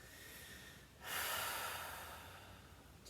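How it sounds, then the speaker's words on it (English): Ujjayi pranayama breathing during a chair yoga practice: a close, audible ocean-like breath that swells into a long, rushing exhale, with no talking. "continue to breathe like this on your own, creating this ujjayi, this pranayama, this life force breath that feels so good"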